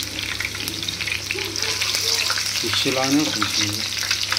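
Chicken lollipops fry in hot oil with a dense, steady sizzle, and a brief rattle of a utensil turning the pieces partway through.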